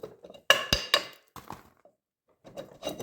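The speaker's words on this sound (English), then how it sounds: "I got my little crappy brass hammer. Hopefully I can just tap this and pull." A small brass hammer gives a few sharp metallic taps on a 2001 Honda Foreman Rubicon wheel bearing, close and fairly quiet, in short uneven bursts with brief pauses between them.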